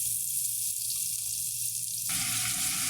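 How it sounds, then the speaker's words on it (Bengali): Chopped onions fry in hot mustard oil for a fish curry, giving a steady, loud broadband sizzle with a low rumble throughout and no voices. "দেখেন আমি পেঁয়াজ কুচি দিয়ে দিয়েছি, পেঁয়াজ সিদ্ধ হতে দেবো পেঁয়াজটা"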